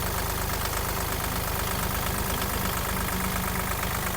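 The engine of a Japanese Mitsubishi GOZ-32 mini tractor idles steadily with a constant knocking chug, loud and close, with no voices.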